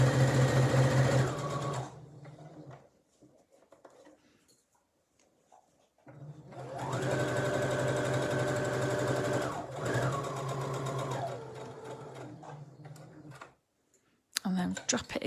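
A sewing machine stitches the top edge of fabric for a welt zipper, running in two loud, steady whirring bursts separated by a quiet pause, with a brief clunk at the end.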